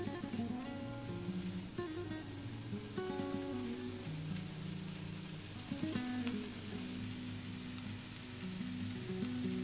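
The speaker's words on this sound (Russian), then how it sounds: "Капуста стала сочнее. Она обжарилась и подрумянилась." Shredded cabbage sizzles and crackles steadily in a hot frying pan for a cabbage pie filling, with occasional soft stirring knocks, close and moderately quiet.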